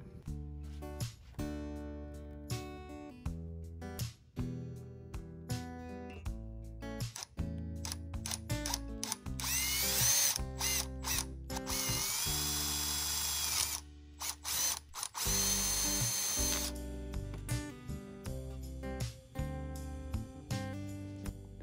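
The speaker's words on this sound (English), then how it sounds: "what we're going to do now is drill a hole in it" A power drill drilling a hole for upholstery work, whirring in stop-start bursts, revving up and down with a sustained high-pitched run in the middle, close and fairly loud.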